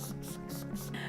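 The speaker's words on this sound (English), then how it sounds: "To finish all the way, I'm gonna use my Urban Decay De-Slick Makeup Setting Spray." Urban Decay De-Slick makeup setting spray misted close by in three quick hissing bursts, each a short airy spritz over a faint steady background.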